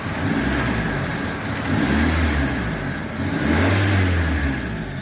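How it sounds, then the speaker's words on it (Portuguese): A Fiat Fiorino with a 1.3 Fire engine, running with an injector misfire, is revved twice from idle, each swell climbing and falling back over a steady mid-pitched engine hum, close and clear with no talking. "Vamos acelerar o carro."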